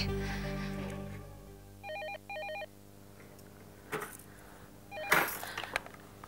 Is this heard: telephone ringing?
yes